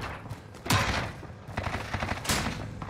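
Gunfire in Call of Duty Warzone on Rebirth Island, two sharp bursts about a second apart over a dense background of game effects, loud and close.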